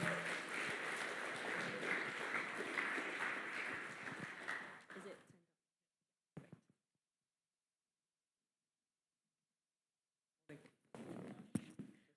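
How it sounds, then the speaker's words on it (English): Dense crowd applause in a church for several seconds that fades out into silence, followed by brief bits of a voice speaking. "So can you give them a round of applause?"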